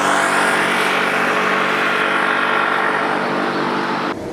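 A Honda ADV160 scooter engine held at full throttle while climbing an uphill grade, a steady loud drone with wind rush throughout, easing slightly at the very end.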